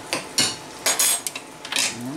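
Pasta with pancetta and peas tossed in a pan, giving several loud, irregular scraping clatters and bursts of metal-on-pan rattling, close up with no talking.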